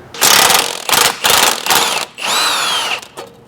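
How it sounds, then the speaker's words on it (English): Strut bolts being removed from the steering knuckle of a car, likely a Ford Mustang, with loud bursts of a power tool or impact wrench rattling in several short runs and a whining pitch near the end, no talk. "Gonna take the strut bolts out of the knuckle here."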